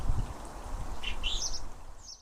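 Blue tits call in a garden with bird feeders near a plum tree: a few short, high chirps in quick succession at moderate distance, over a low background rumble.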